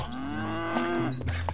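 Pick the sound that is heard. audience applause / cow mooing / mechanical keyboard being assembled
cow mooing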